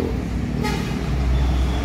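A bus horn gives a brief toot as an ANS bus pulls into a busy bus terminal, set against a loud, continuous rumble of engines and traffic.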